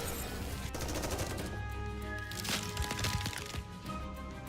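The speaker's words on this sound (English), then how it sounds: "Bullets flying from all directions slam into the ice barrier." Bullets striking an ice barrier in the video game Nikke: rapid cracking gunfire with sharp impacts, a dense burst around the middle, over a game soundtrack with faint tonal lines.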